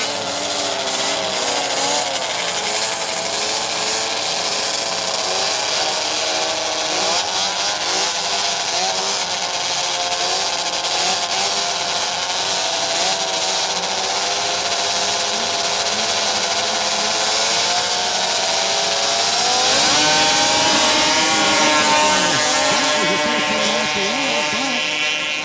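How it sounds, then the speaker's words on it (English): Snowmobile race engines from Moto-Ski and Arctic Cat sleds in a SnoPro 250 race at Lake Holcombe, a continuous high whining roar that rises and swells toward the end, with a commentator talking over it. "we're going to see three moto skis and an Arctic Cat in this one."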